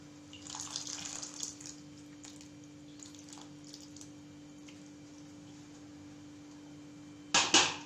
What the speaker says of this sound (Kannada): ಇವಾಗ ಇದಕ್ಕೆ ನಾವು ಇಟ್ಕೊಂಡಿರೋಂಥ ಹುಣಸೆ ಹಣ್ಣಿನ ರಸನ ಹಾಕೊಳ್ಳೋಣ.